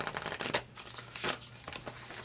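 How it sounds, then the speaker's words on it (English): A tarot deck shuffled by hand, giving close, breathy riffles and papery slides in quick bursts with a louder swish near the middle, short and continuous without speech. "I'm going to shuffle till they tell me to stop"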